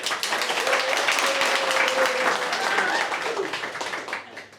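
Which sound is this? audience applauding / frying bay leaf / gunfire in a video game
audience applauding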